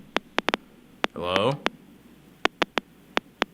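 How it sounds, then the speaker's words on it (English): Sharp, isolated clicks from a Geiger counter in a radio studio, about a dozen spaced irregularly across a few seconds, with a brief burst of voice-like tone in the middle. "It's a Geiger counter, right?"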